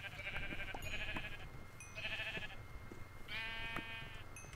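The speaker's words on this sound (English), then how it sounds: "Alright, let's go get these sheep over here." Sheep in a hardcore survival video game let out three distinct bleats in a row, each clear and moderately loud over a steady low background hum.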